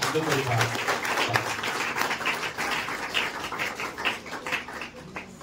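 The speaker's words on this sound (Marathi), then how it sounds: "जोरदार सरांसाठी सुद्धा टाळ्या वाजवा." Audience applause at a student felicitation ceremony, a dense patter of clapping that holds steady through the stretch and tapers slightly toward the end, with a voice talking over it.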